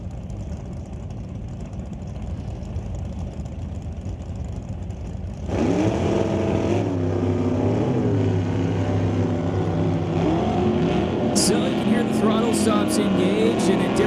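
Drag racing engines of a 1966 Ford Mustang fastback with Ford power and a 1966 Chevy at an NHRA Northwest event: quiet rumble, then a loud, sustained engine roar with shifting pitch from about halfway on, under continuous commentary.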